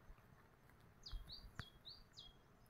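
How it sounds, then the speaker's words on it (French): Birds chirping in a quiet nature park at Tazekka, Taza, with three short bright descending chirps spaced about a second apart, fairly faint over soft outdoor ambience and a single light tap. "Le son des oiseaux et des mouches."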